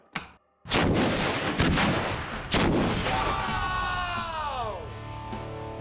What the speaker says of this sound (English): Real world sewer explosion, best case scenario, sparking in 3, 2, 1.